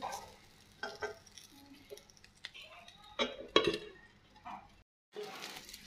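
Food roasting for a mashed bharta is stirred in a pan, with scraping clinks and soft sizzling in uneven bursts, fairly faint, broken by a brief silent gap near the end.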